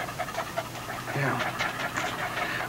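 A dog pants rapidly and steadily in a scene from a 1971 film, the breathing continuing under a voice talking throughout.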